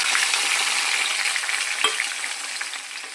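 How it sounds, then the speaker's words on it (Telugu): Chopped tomatoes fry in a pan, hissing loudly and steadily, with occasional stirring, and the sizzle eases slightly toward the end. "కట్ చేసి పెట్టుకున్న టమాటా ముక్కలను బౌల్లో వేసుకొని వేయించుకోవాలి."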